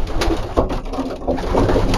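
A racing pigeon held in the hand coos softly and repeatedly at close range, a low throaty burble with no talk over it.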